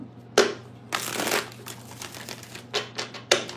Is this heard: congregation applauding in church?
no